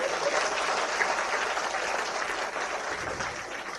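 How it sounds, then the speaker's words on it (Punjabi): A crowd at a political gathering in Punjab claps without a break, steady and fairly loud throughout, with no voices over it. "ਜੇ ਸਹੀ ਹੈ ਤਾੜੀ ਮਾਰ ਦਿਓ ਨਹੀਂ ਤਾਂ ਨਾ ਮਾਰ"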